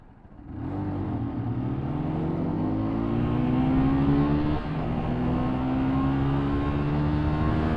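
A car engine pulls hard under steady acceleration, its rising whine stepping down smoothly at a gear change and climbing again, continuous and close with no talking.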